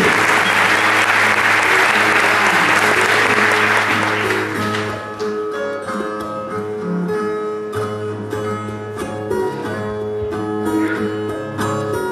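Loud, dense audience applause for two repentista singers, filling the first four seconds before thinning into lighter clapping over music.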